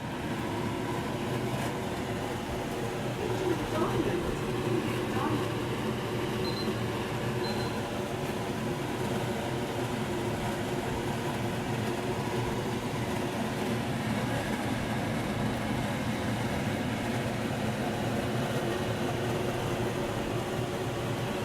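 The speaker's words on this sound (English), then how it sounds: "We do have the extractor on as well." A kitchen extractor fan runs indoors as a steady, continuous broadband whoosh with a low hum, unchanging throughout, while a hot smoker with its lid closed sits cooking duck breast nearby.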